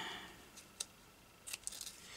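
Scissors snip through paper while making a paper doll journal, a few quiet, crisp cuts, one isolated and then a quick cluster of snips near the end, close and faint.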